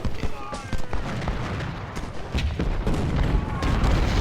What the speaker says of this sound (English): Unit Loomis is here to fire on McHenry